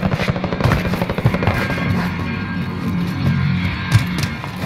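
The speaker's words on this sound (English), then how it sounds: "Mercenaries called in a supply chopper to offload their cash reserves." A supply helicopter in Warzone beats its rotor in a fast, rhythmic chop, loud and close, holding steady throughout with a few sharp thuds.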